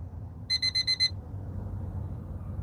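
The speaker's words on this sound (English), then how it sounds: "There's my alarm." An alarm beeps in a quick burst of about five evenly spaced electronic tones, clear and fairly loud, then stops, leaving a low background murmur.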